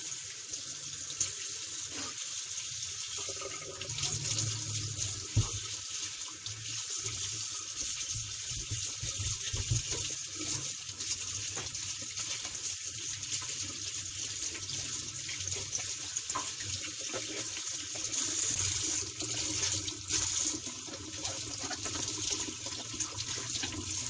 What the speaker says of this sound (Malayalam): അപ്പോൾ നമുക്ക് വെള്ളം ഒഴിച്ചിട്ട് നല്ലോണം ഒന്ന് കഴുകിയെടുക്കാം